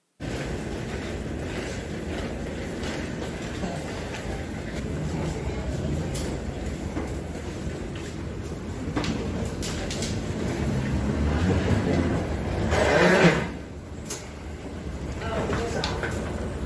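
An Amtrak Missouri River Runner passenger train pulls out of St. Louis, heard from aboard as a steady low rumble and rattle of the rail car with occasional clunks, while people talk over it.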